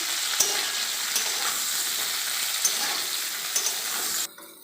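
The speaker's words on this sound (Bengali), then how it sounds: "ভালো করে ভেজে নেবো একটু।" Eggplant and potato pieces fry together in a pan, sizzling steadily and close up with occasional stirring clicks, before the sound drops away abruptly near the end.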